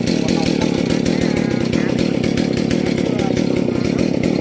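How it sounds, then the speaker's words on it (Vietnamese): A chainsaw runs loud and steady, cutting through the base of a large rain tree that stands close against a house wall, its continuous engine roar unbroken throughout. "chuyển cái máy cưa xuống để cưa cái phần gốc rồi"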